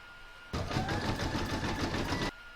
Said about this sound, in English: I'm going to put that in my machine and stitch round number 8, which is going to do the zigzagging around the letters.